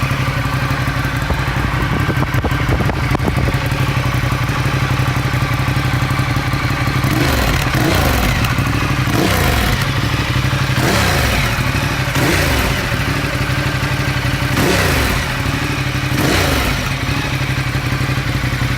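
Ducati Diavel motorcycle with a Remus slip-on exhaust idling close by, then revved in about six sharp, rising blips toward 6,000 rpm, each falling back to a rumbling idle.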